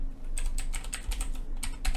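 Keys on a computer keyboard are tapped rapidly while a password is entered, giving close, fairly loud clacks over a low steady background hum.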